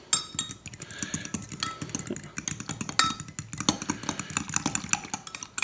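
A fork clinks and scrapes against a bowl while stirring unflavored gelatin, a quick, uneven run of light metallic taps and scrapes, close and steady, with no talking.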